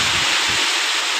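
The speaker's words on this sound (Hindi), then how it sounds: "बरसात तगड़ी हो रही है।" Heavy rain pours down in a village, a dense continuous hiss of water falling steadily and loudly with no break.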